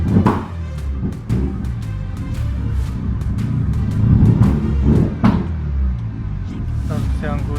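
A barn-find Mazda RX-7 with a backfire problem, driven while its engine breaks up around 2,500 rpm, making an uneven, stuttering rumble with scattered thumps and pops; close and fairly loud from inside the car.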